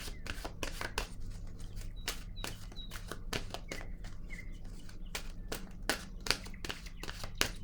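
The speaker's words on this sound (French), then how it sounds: "je vais piger maintenant une autre carte de mon oracle de l'âme" Cards from an oracle deck being shuffled and drawn, a busy run of crisp papery slaps and flicks close by, with faint bird chirps and a low hum behind.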